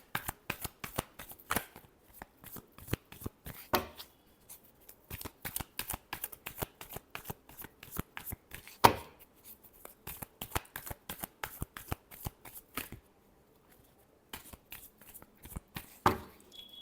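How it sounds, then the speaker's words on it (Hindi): Playing cards being shuffled by hand for a Virgo tarot-style reading, a long run of crisp riffling flicks and soft slaps with brief pauses, close and fairly quiet, with no talking. "Last shuffle."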